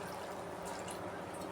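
Water is poured into a pan of chopped raw mango, a continuous close splashing and trickling wash lasting a second or two, with no voices over it.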